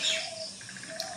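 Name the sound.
birds calling outdoors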